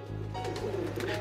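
Pigeons cooing softly in a brief burst, low rounded coos over a steady background hum.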